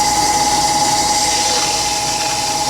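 Sandpaper pressed against wood spinning on a Harbor Freight lathe gives a loud, steady hiss over the lathe motor's constant whine and hum, continuous throughout with no pauses.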